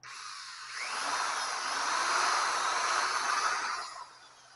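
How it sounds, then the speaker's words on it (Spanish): A handheld electric drill powered through an inverter from a battery whirs up and runs steadily at close range for about three seconds, then winds down, with no talking. "vamos a enchufarle el taladro, que es lo que tengo más a mano, y vamos a ver si prende"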